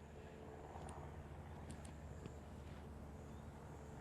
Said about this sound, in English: He's taxiing out to the main runway, and so looks like he's lining up